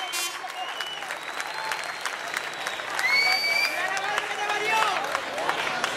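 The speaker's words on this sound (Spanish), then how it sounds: "Venga, ese aplauso" Audience applause at a drag queen carnival gala in Costa de Mogán, a dense steady roar of clapping and crowd noise throughout, with music tones and scattered voices layered over it.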